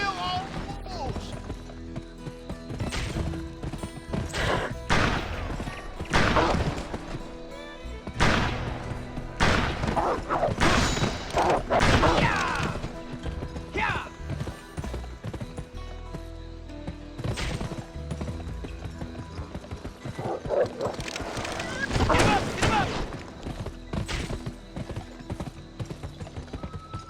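Horse hooves galloping fast in the PlayStation 2 western game GUN, loud continuous clip-clop with occasional whinnies and scattered gunshots mixed in.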